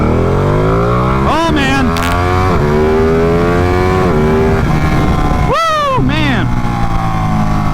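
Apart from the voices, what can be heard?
Ducati Panigale motorcycle accelerating hard in race mode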